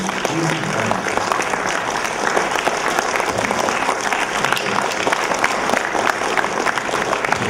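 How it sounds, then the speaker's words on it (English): Conference participants at a regional conference on services sector liberalisation applaud themselves, a dense, steady clapping from a roomful of people that continues throughout, with some voices mixed faintly into the crowd noise. "Can us arise and give a round of applause back to ourselves?"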